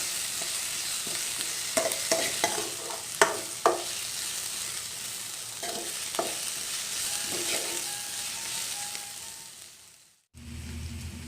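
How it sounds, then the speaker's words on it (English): Onions frying over a low to medium flame for a prawn gravy, a steady close sizzle with repeated spatula scrapes and clacks against the pan, ending in a brief drop-out before the frying resumes, no speech. "Keep it in low to medium flame and cook this. Keep stirring till then the onion turns to brown color."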